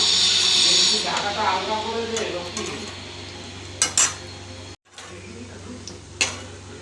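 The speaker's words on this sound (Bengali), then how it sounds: "সর্ষের তেলেই ভাজছি।" Vada fritters frying in mustard oil over a lowered flame give a bright sizzling hiss that is strongest at first and then settles, broken by sharp clinks of a utensil against the pan, with a voice talking underneath.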